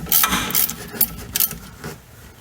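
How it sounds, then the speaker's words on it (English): Wrench working a 13mm bolt loose on the parking brake arm of a VW Golf mk4, a run of close, uneven metallic clicks and ratcheting scrapes with no talk. "the first thing I'm going to do is remove this 13mm bolt"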